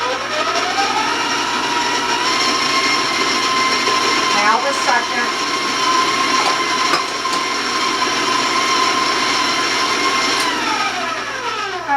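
An electric mixer beats no-sugar peanut butter cookie dough with eggs, whirring loudly and steadily with slight pitch shifts as it works, while a person speaks briefly over the motor.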